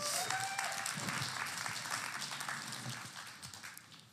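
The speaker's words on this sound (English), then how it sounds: "Give him a round of applause." A workshop audience gives a round of applause, a fairly faint patter of many hands clapping that holds steady and then tapers off toward the end.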